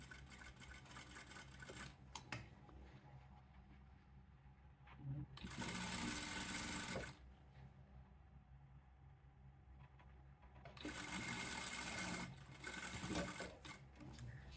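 A sewing machine runs in two steady bursts of rapid, close mechanical whirring, top stitching trail running gaiters with a narrow allowance, with quieter handling noise in the gaps between runs.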